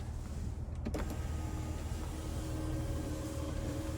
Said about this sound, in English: a tilt and sliding power sunroof for the front